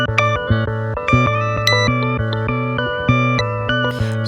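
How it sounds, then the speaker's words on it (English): A loop run through a Looperlative LP2 looper's Scramble function, randomly chopped into segments: a loud guitar-like musical phrase stutters and jumps in abrupt choppy slices with sudden note changes, no voices. "Scramble takes the loop and randomly chops it up into segments"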